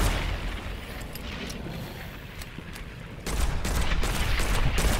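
A bombardier enemy in the Witchfire game sets off explosions: dense, rumbling booms and crackling blasts that build into a louder barrage partway through.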